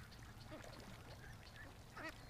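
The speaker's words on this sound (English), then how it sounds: "We're down here with a small group of ducks" A small group of ducks near a house gives a few faint, scattered quacks over steady low background noise, with one slightly clearer call near the end.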